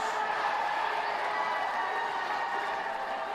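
Tennis Premier League crowd in a stadium cheering and clapping, a dense, steady wash of applause and voices that stays loud and even throughout.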